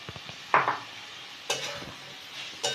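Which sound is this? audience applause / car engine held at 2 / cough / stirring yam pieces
stirring yam pieces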